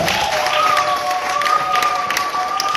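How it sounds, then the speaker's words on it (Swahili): A church congregation at a Sunday service applauding, a dense, sustained wash of many hands clapping, loud and close, with a held tone running beneath it. "Hebu mshangilie Bwana wetu kwa makofi mengi"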